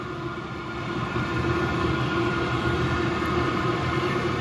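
An 8K diesel air heater on its first run blows a loud, steady roar of air close by, growing stronger after the first second and then holding a constant rushing drone.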